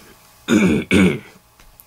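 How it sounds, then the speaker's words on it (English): Someone clears their throat twice in quick succession, close and loud, with quiet in between. "I have a cough, apparently."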